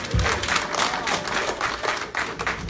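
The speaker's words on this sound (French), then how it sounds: "Applaudissez." An audience at a political roundtable gathering in New York applauds. The clapping is loud and close, with a noticeable pulsing rhythm in the crowd of hands that carries on steadily throughout.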